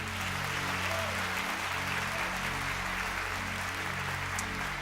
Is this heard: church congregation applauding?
yes